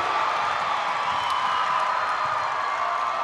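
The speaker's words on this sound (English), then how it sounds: "No need to announce it, you heard the Rugby crowd." A home crowd in a gym at a girls' high school basketball game, Rugby against Hettinger Scranton, roars steadily after the winning free throw, a dense sustained wash of cheering that holds loud for the whole stretch.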